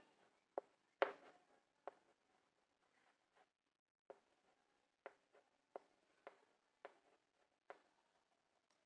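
Chalk or marker writing on a classroom board, a series of sharp, separate taps and short strokes at an irregular rhythm, close and fairly faint, with no talking over it.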